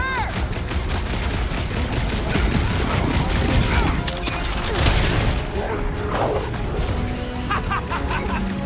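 Bursts of sci-fi gunfire in Marvel's Guardians of the Galaxy, with clicking mechanical weapon sounds, loud and continuous under occasional game voices.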